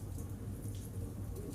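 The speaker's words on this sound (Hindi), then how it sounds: "बाहर बहुत तेज बारिश हो रही है।" Heavy rain falling outside a bookshop with its door open, a steady dense wash of noise with low rumble, loud and continuous throughout, with no talking.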